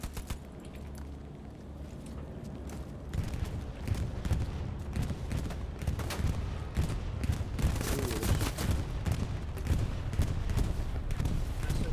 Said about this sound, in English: That was a nice bombing run.